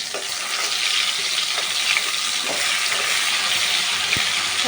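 Ginger garlic paste fries loudly in hot butter for an Andhra-style fish curry, a dense, continuous close-up sizzle with faint occasional stirring taps and no speech.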